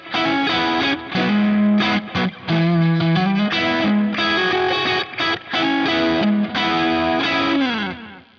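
Electric guitar run through an amp modeler with heavy distortion, played alone as sustained chords and melodic lines that stop and restart in short phrases with brief pauses, loud and close.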